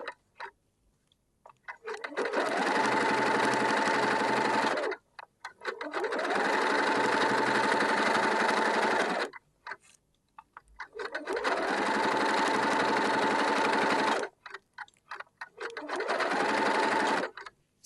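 A sewing machine stitches rows of shirring elastic into fabric, running in four long, steady whirring bursts of several seconds each, separated by brief pauses.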